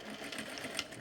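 A sewing machine runs steadily while edge stitching gingham pants, a quiet, fast, even mechanical whir lasting about a second.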